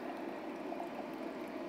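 Water pouring steadily as it drains out of a GX Pumps CS4 5800 PSI personal PCP compressor during winterizing, a continuous close trickling flow with no voices.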